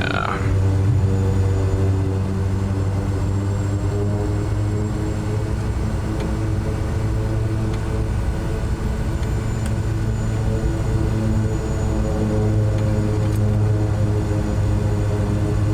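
The SWS Kodiak single-engine turboprop in Microsoft Flight Simulator 2024 drones loud and constant during the takeoff roll, a steady engine and propeller roar with a buzzing hum and no voices over it.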